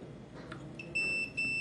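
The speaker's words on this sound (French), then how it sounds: "vous allez voir que ça bip en continuité" Two short, high electronic beeps from a multimeter continuity test sound in quick succession over quiet background noise, clear and close.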